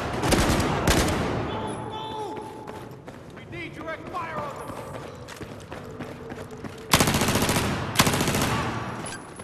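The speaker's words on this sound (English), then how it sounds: "Direct fire on them!" Battlefield 4 machine gun fire comes in loud sustained bursts at the start and again near the end, with quieter combat noise and soldiers' voices shouting in between.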